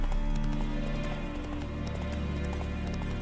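In the Witcher 3 video game, the horse Roach trots steadily with a rapid run of hoof clip-clops over a dense, constant bed of game ambience and music.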